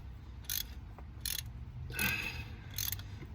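A ratchet wrench loosens an exhaust manifold nut on a 3.8L MIVEC 6G75 engine in four short, close clicking bursts separated by brief pauses, quiet overall with no talking.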